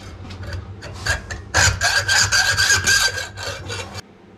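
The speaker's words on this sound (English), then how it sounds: "I'll go find a saw." Hand saw cutting through material in a cave house, rough rasping strokes in an irregular rhythm that grow louder and steadier midway before stopping abruptly, close by.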